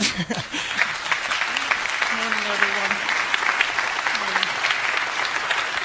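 At the opening of a NATO Engages conference, an audience applauds to welcome NATO Deputy Secretary General Rose Gottemoeller. The clapping is loud, continuous and full, with a voice speaking over it.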